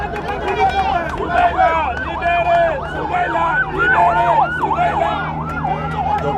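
An ambulance siren wails in a repeating rising-and-falling pattern as it passes along a street during a motorcade welcoming ECOWAS presidents, loud against steady traffic rumble, with a voice talking over it.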